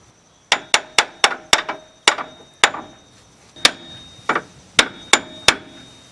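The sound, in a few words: hammer tapping control arm into place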